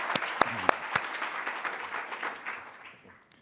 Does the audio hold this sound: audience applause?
yes